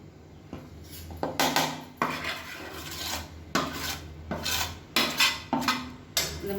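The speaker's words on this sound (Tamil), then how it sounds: "கடாயை எடுத்துகிட்டு இந்த மாவு நம்ம அதில் சேர்த்து நல்லா வறுத்துக்கலாம்" Black kavuni rice flour being dry-roasted in a heavy-bottomed kadai, with repeated scraping and clinking of a metal spatula against the pan in irregular strokes, close and fairly loud, with no talking.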